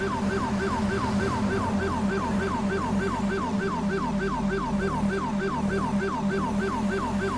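A video game police siren in GTA 5 cycles steadily up and down in rapid repeated sweeps, loud and continuous over a low engine rumble, with no talking.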